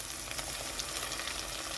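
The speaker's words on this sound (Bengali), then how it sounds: "তো এখানে আমি চিংড়ি মাছটা দিয়ে দিচ্ছি নুন হলুদ মাখানোটা।" Salt-and-turmeric marinated prawns frying with browned onions in a pan, giving a steady, fairly loud hiss and sizzle throughout with no talk.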